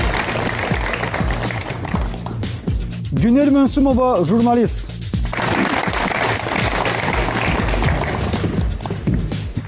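A television studio audience claps continuously, a broad steady roar of applause welcoming talk-show guests, while a presenter's voice announces a guest over it partway through.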